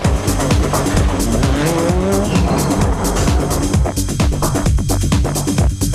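Rally cars race on a tarmac stage at the Donegal International Rally in 2003, engines revving hard through gear changes with tyre squeal and skidding, loud and close throughout.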